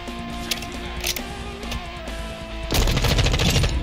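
A Stuger assault rifle fires in Call of Duty Modern Warfare II multiplayer. Rapid automatic bursts crack out in short strings, then a dense, louder volley of gunfire fills the end.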